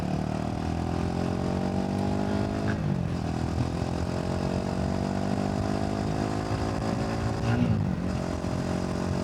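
A Royal Enfield Himalayan 450 motorcycle rides off in nasty rainy weather, its engine drone steady and rising gradually in pitch over several seconds, with continuous wind and road noise underneath and no talking.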